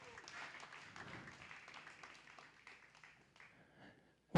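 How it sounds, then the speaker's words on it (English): Ringside spectators at a county fair 4-H and FFA beef show clap for three senior showmanship girls, a modest, scattered round of applause that thins out and fades over a few seconds. "go ahead and give these three senior showmen gals a round of applause"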